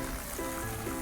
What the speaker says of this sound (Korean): 물이 이렇게 나오고 있습니다.